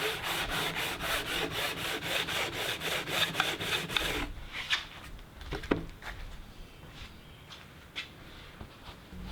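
Rhythmic back-and-forth strokes of scraping and sanding on an old wooden window frame, fast and steady at first, then stopping, leaving scattered light knocks and handling sounds.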